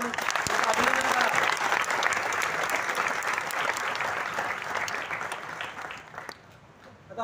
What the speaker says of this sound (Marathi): त्यांच्या जोरात टाळ्या वाजवून अभिनंदन करा